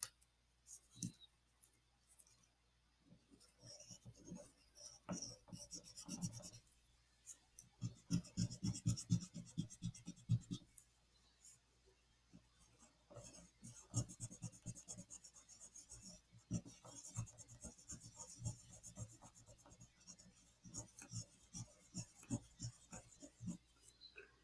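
Colored pencil strokes rasp across paper in quick, close scratchy bursts, rhythmic back-and-forth shading with brief pauses between passes, soft and intimate.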